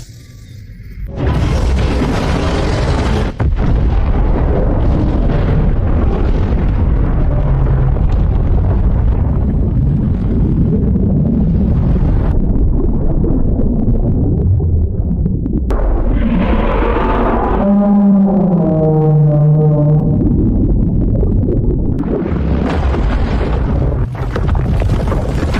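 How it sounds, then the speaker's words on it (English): A mecha's nuclear pulse weapon detonates in a loud, sustained explosive roar that fills nearly the whole stretch, with a brief dip mid-way and a tonal, descending synthetic sweep near the end before the rumble resumes. "Explode."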